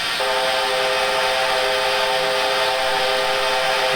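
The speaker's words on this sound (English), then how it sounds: "If you hold the whistle down for a period of time, it's got a little ending" A New Zealand Kb 4-8-4 steam locomotive in Train Simulator Classic gives one long, loud, steady whistle blast with a breathy hiss of steam under it, sounding alone.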